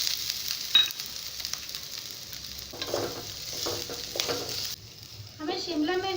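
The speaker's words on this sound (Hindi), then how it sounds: "हमें शिमला मिर्च को आधा फ्राई होते तक पकाएंगे" Capsicum, green onion and other vegetables frying in a pan for veg Manchurian, a close, quiet sizzle with intermittent stirring scrapes and a louder burst of frying near the end.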